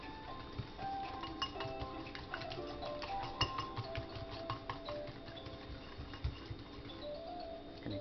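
Ginger soy chicken marinade stirred in a bowl, a steady run of soft clicking and tapping from the utensil against the bowl, close but quiet, with no talking.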